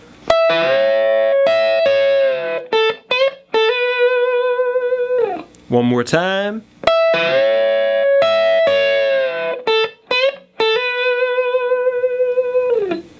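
A slow, distorted electric guitar lick from the solo of a song, with sustained bent notes and pauses between phrases; a voice speaks briefly at one point.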